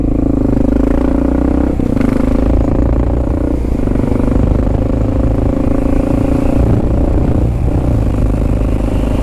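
A Kawasaki KLR motorcycle rides through Bronx streets, its engine droning steadily and loudly with wind rumble and shifts in pitch throughout, no voices.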